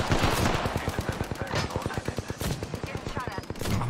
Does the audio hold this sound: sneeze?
no